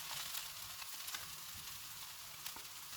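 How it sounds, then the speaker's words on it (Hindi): Chicken cutlet mixture fries in a pan over medium heat, a faint, even sizzle with soft crackles and occasional stirring scrapes. "चूल्हे को मीडियम कर देंगे, इनको 3 से 4 मिनट तक भूनेंगे।"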